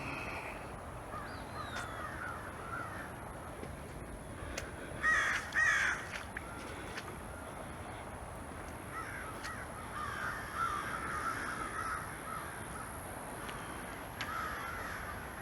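Crows caw in scattered bursts across a Louisiana cemetery in August, the calls fairly distant and intermittent against a constant outdoor hiss, with long quieter gaps between them.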